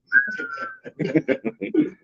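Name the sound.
person whistling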